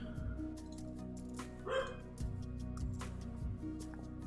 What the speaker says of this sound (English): I need to walk to that dog because he's barking for no freaking reason again